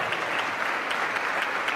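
Enthusiastic audience applause, a dense, even wash of clapping from a crowd at a live speaking event, continuous through the whole short moment.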